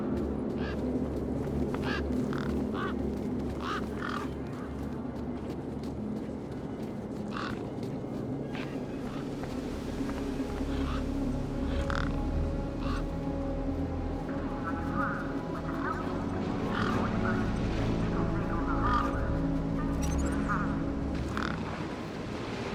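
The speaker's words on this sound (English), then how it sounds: "desert birds" Desert birds squawk and croak in the video game Beyond a Steel Sky, giving scattered harsh calls at middle distance over a steady low ambient drone, with several calls overlapping toward the end.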